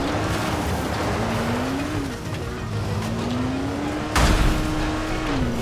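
Car driving and skidding in a video game, engine droning steadily under a rising and falling pitch, with a sharp burst of tire noise near the end.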